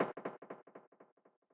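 A short percussive pattern of about a dozen quick hits, decaying in loudness over the phrase, dry and close with no voices.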